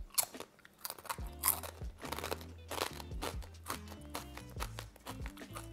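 Crunchy fried pasta chips being bitten and chewed up close, with repeated loud crisp crunches in an uneven rhythm over about six seconds.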